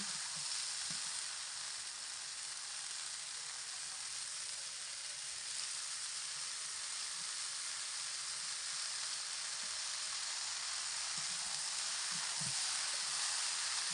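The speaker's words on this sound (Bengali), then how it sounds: "এবার আমি এর মধ্যে আলুগুলোকে দিয়ে দিচ্ছি" Potatoes sizzling in a pan of hot oil over a garlic and chilli tempering: an even, continuous hiss with a few soft stirring bumps, fairly quiet and heard alone.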